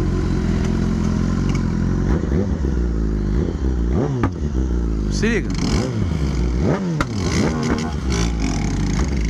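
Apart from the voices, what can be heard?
BMW S1000 2019 motorcycle exhaust popping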